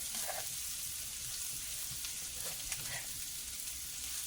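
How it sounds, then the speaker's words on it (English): Yellow squash and onion browning in a pan, giving a soft, steady sizzle with faint crackles throughout. "I'm going to let this brown just a little bit until I stir it"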